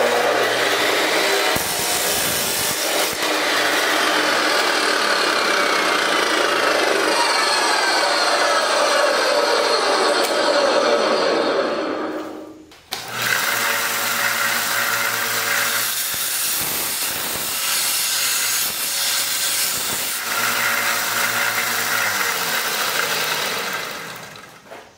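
A power tool cuts through a piece of metal roof bolt, a loud, harsh, continuous grinding whine lasting about twelve seconds, a brief pause, then a second long cut of similar loudness.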